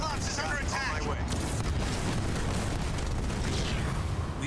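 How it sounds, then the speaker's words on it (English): An enemy structure blowing up in the real-time strategy game Halo Wars 2, a loud rumbling boom amid steady battle noise, with a voice speaking over it. "We've taken out an enemy structure."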